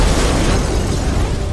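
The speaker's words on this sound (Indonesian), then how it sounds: "Wah gila, nabrak bom bensin cuy." A gas bomb explodes in the video game The Last of Us, a loud, close, sustained rumbling blast that fills the whole moment with no talk over it.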